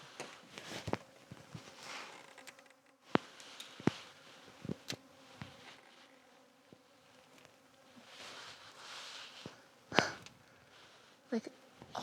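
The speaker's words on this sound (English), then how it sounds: "Look how many bees." Bees swarming around a van in the desert, a close, wavering buzz of many insects with sharp clicks and bumps as they pass near.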